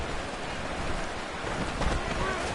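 Steady rainfall in the Madden NFL 24 video game during a Bears vs. Browns football match, a broad constant hiss of rain with low rumbling underneath, like a wet stadium ambience.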